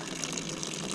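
Water rushes steadily from a hose into a farm animals' drinking trough, a brief, even hiss of filling liquid heard close and fairly faint.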